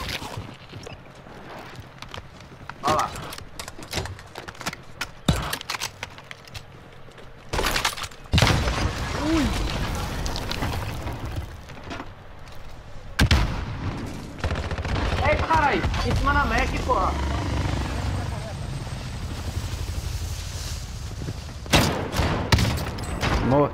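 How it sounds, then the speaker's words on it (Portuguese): Gunfire from the video game Call of Duty: Modern Warfare, with sharp shots scattered across the clip under ongoing talk and chatter between players. "Eu dei 3 tiros. Mas eu só precisava de 2, amigo."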